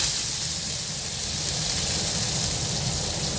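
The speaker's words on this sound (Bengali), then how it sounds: "কড়াইতে আমি আলুটা দিয়ে দিচ্ছি" Potatoes frying in hot mustard oil in a kadai on a low gas flame give a steady, even sizzle and hiss that carries loud and unbroken throughout, with no voices.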